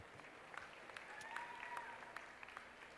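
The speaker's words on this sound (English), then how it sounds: "Give him a big round of applause here real quick" Crowd applause for the champion barrow at a market barrow livestock show, heard as fairly faint, distant clapping with scattered sharper claps and a faint background voice or whistle over it.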